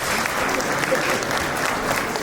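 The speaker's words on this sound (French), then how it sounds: "Applaudissez pour maman, s'il vous plaît." Wedding guests applauding the bride's mother at a reception, a dense, steady roar of many hands clapping together, sustained and fairly loud from start to finish.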